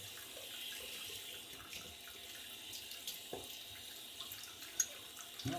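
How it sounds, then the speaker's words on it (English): Water runs steadily from a tap while a shaving soap bowl is rinsed, a continuous close hiss and splash with small clinks of the bowl near the end. "Rinse out the soap bowl."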